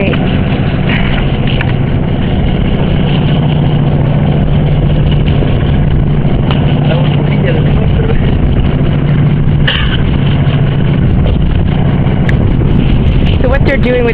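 A large winch running on a fishing boat as it slowly hauls in a net, a steady low engine-like drone throughout, loud and continuous, with a voice talking over it.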